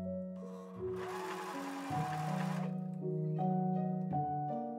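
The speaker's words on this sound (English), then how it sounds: "Next up, sew the sleeve seams, flat felling the raw edges." A sewing machine stitches blouse sleeve seams, running in a fast whirring burst near the start, then whining and pausing in short stops and starts, with faint electric hum between.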